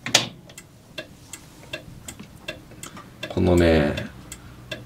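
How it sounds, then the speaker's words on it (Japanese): Relays in the restored instrument cluster of a Land Cruiser 40 (BJ46) click in a steady ticking rhythm of sharp, faint taps close by, with a brief spoken word at the start and a louder buzzing burst near the end. "リレーのね、音がいいですね。"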